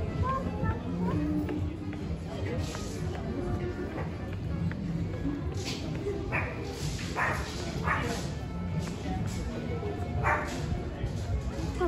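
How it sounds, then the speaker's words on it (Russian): Large dogs bark repeatedly on a busy seaside promenade in Yevpatoriya, Crimea, in May, heard at a moderate distance amid crowd noise and people talking. "Собаки огромные."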